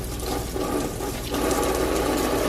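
Tap water runs steadily while a makeup brush is rinsed under the stream, a close, constant rushing splash that grows slightly fuller partway through, with no talking.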